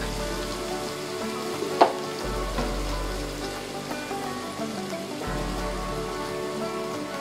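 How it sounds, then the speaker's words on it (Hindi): Ginger garlic paste frying in a pan, a steady close sizzle with a low hum running beneath, one sharp clink partway through, and no voices. "1 टेबल स्पून अदरक लहसुन का पेस्ट, जिसे आपको भून लेना है"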